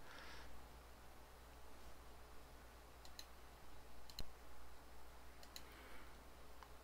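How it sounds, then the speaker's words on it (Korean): Faint, quiet clicks over low background hiss, a few sharp paired taps spaced apart, like a computer mouse being double-clicked. "왼쪽 마우스 더블 클릭해서 프로그램을 실행시켜 주시기"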